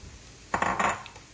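Lupin flour goes into a pan of cooked onions, heard as a brief cluster of metallic clinks and scrapes from a spoon against the pan, close and short, in an otherwise quiet kitchen.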